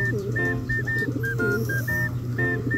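Pigeons coo softly in repeated low, throaty phrases against a steady background hum, with a faint high whistle-like tone recurring throughout.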